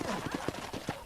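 Horse hooves clip-clopping at a riding pace in Red Dead Redemption, a steady uneven rhythm of soft thuds over a dirt track, moderately close, with game speech running over it.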